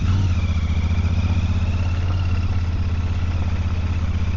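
Royal Enfield Super Meteor 650 motorcycle riding along a bumpy lane, its engine thrumming loud and steady at low revs with a continuous pulsing throb throughout, no talk.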